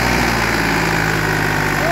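A Ghazi tractor engine idles up close, a loud, steady low rumble with constant mechanical vibration and no change in pace, with some speech faintly mixed in.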